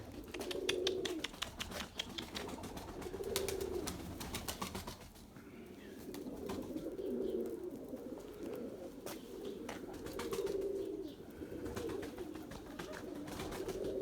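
Erzurum white pigeons coo in repeated soft, throaty phrases, each lasting a second or so and recurring every few seconds, with faint clicking and fluttering around them and no talk.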